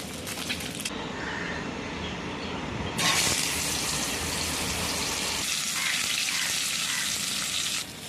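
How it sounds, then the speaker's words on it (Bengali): Pieces of pointed gourd (potol) fry in hot oil with a steady, loud, close sizzle that swells and holds throughout, with a sharper crackle when fresh pieces seem to hit the pan. "পটলটাকে একদম লাল লাল করে ভাজতে হবে।"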